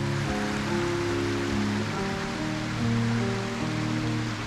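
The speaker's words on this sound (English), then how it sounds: "it wasn't long before we reached a stream that would take us all the way to the tarn" A mountain stream on a walking route up toward a tarn rushes steadily with broadband watery noise, continuous and fairly close. No voices are heard over the flow.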